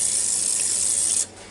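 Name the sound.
olive oil being sprayed onto steak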